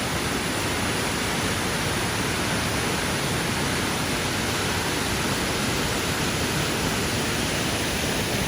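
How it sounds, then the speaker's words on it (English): Cascadas del Estrecho, a powerful, tall waterfall in the Ordesa Valley, Spain, roars as a loud, constant, broadband wash of falling water with no pauses and no voices. "But just a powerful and tall waterfall."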